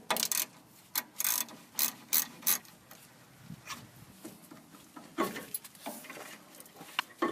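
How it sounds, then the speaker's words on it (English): A ratchet with a 14mm socket backs out a lower brake caliper bolt on a 1997 Mitsubishi Montero, giving bursts of quick, close clicking pawl strokes with brief pauses, then quieter fiddling and lighter clicks. "Now we're going to finish taking the lower bolt off with our ratchet and 14mm socket."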